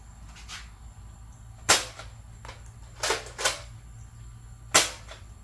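Air Warriors Air Max Boss toy blaster firing foam darts, four sharp loud pops spaced unevenly over several seconds against a quiet background.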